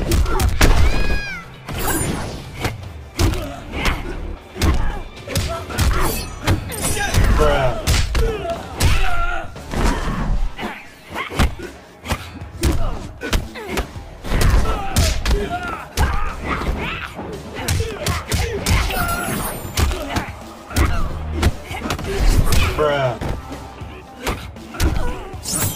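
Punches and kicks in a Mortal Kombat fight with Kung Lao, a rapid run of loud thuds and slaps. Grunts and shouts come through between the blows.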